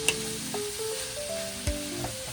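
Pechay stalks sizzle and fry in a pan for a sautéed pechay dish, a steady close crackle with a couple of brief stirring knocks.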